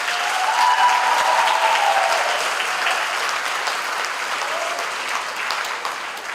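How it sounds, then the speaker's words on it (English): Audience applause at a Catholic school graduation ceremony, a steady wash of many hands clapping in a hall that slowly thins toward the end, with no speech over it. "Let's give them a big round of applause."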